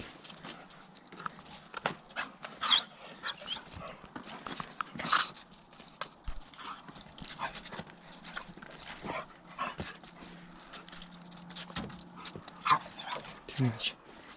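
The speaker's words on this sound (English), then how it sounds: "the other dog you hear in the background going crazy." Indoors on a freezing day, a dog yelps and whines excitedly in the background with scattered clicks and thumps, fairly faint and irregular, while a person talks nearby.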